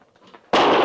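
A rifle shot in a radio western drama cuts sharply out of near silence as a single loud, close blast that fills the rest of the short clip.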